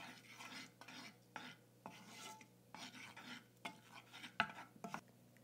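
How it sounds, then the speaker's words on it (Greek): A spoon stirs yogurt kebab sauce with paprika, dehydrated onion, allspice and oil in a pot, giving repeated soft scraping strokes with occasional sharp clinks against the metal, close and alone. "Και ανακατεύουμε."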